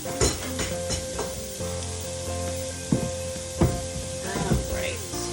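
Bone broth going into a pan of sizzling carrots: steady close sizzle and frying hiss with a few sharper clinks and splashes scattered through.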